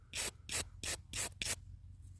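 A small brush scrubs a found button clean in five quick, close strokes, each a short dry rasp with brief pauses between, then a quieter tail.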